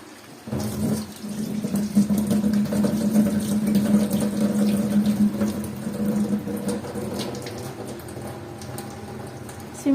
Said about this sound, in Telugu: ఒక 4 సార్లు నీళ్ళు పోసి బాగా వాష్ చేసుకుందాం మటన్